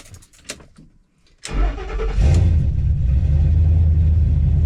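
A rebuilt Ford F150 engine, running rich, cranks briefly and fires up at once, settling into a loud, steady rumbling idle close by.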